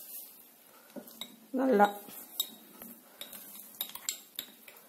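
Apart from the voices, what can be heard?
stirring custard powder into milk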